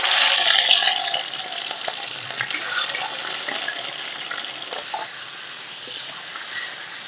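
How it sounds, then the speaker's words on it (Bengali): Chicken frying in hot mustard oil in a wok, a dense close sizzle with crackling spatter that settles slightly over time, no voices. "কড়াই দিয়ে দিয়েছি সর্ষের তেল। তেল গরম হয়ে গেছে। চিকেনগুলো প্রথমে ভেজে নেব।"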